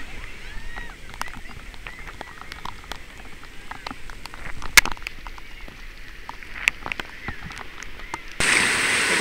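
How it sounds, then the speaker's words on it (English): Steady rain patters on a surface during an oncoming storm, a dense, even hiss with scattered sharper drops, fairly close and moderately quiet, with no talk. "Nice, raining like hell."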